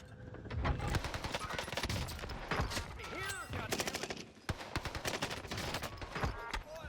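Rapid bursts of Owen Gun submachine-gun fire in a Warzone battle royale match, sharp repeated cracks in quick clusters, loud and close, with a voice talking underneath.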